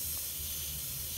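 An airbrush spraying Mission Models rot brown paint for a Flames of War Jagdpanther model, a steady close airy hiss running unbroken through the short moment.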